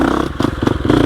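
A 2021 Gasgas EX 350F dirt bike engine pulls in second gear, a steady close-up growl that dips briefly and rises again with throttle, with some clatter over the drone.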